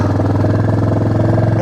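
A motorcycle engine runs with a steady, loud, close rumble and a fast, even pulse throughout, on a bike ride in Arunachal Pradesh heading toward Tawang, near an unfinished bridge.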